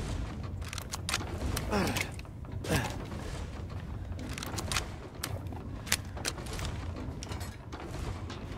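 A door opening in Resident Evil Village, with a run of creaks and mechanical clunks and clicks spread over several seconds, moderately loud against a low ambient rumble.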